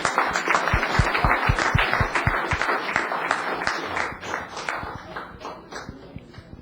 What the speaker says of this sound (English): Let's give them a round of applause as they leave.